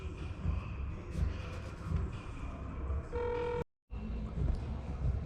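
A phone call being dialed to a welder, with a string of steady dialing tones running for about half a second under background noise and low voices, followed by a brief silence and then more room noise.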